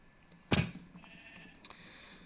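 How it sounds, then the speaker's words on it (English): A single sheep bleat in the Minecraft video game, one short loud bleat followed by a fainter second sound after about a second over quiet game ambience. "We have a sheep here."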